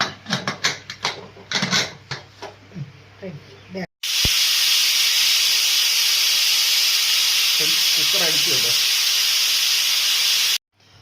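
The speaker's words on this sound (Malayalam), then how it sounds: "നമ്മുടെ കുക്കറിൻ്റെ ആവിയെല്ലാം പോയി." After a few seconds of clattering and knocking in a kitchen, a pressure cooker making Kerala-style avial releases a loud, steady jet of steam that hisses unbroken for about seven seconds before cutting off abruptly.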